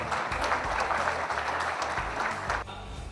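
An audience applauds a student debater introduced at a university speech competition, dense steady clapping lasting about two and a half seconds before cutting off abruptly.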